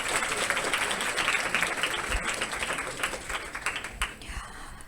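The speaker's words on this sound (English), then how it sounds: "let's have a round of applause for our three people who aren't here" Audience applause at a nursing school pinning ceremony, a dense sustained wash of many hands clapping that thins and tapers toward the end, with a few low thumps and faint voices underneath.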